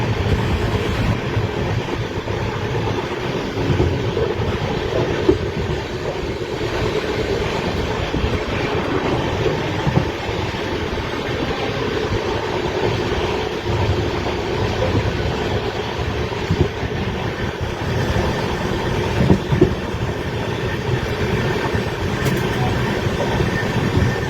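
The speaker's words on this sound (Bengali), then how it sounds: "এই মুহূর্তে ট্রেন ছুটে চলেছে তার পরবর্তী স্টপ কিষানগঞ্জের উদ্দেশ্যে।" A passenger train runs at speed through Barsoi Curve in North Bengal towards Kishanganj in dry weather, a steady, loud rumble of wheels and wind continuing throughout with no pauses.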